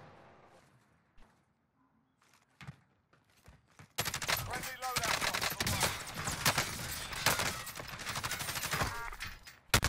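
Gunshots in Call of Duty Modern Warfare Warzone, with a few isolated sharp shots and quiet talk early on, then a sudden loud, sustained barrage of rapid fire filling the rest of the stretch.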